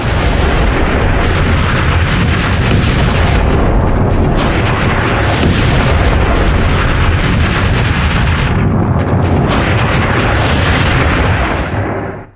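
A massive blast tears through an underground tunnel, a continuous, very loud roaring rumble with repeated heavy bursts that lasts the whole stretch before cutting off abruptly.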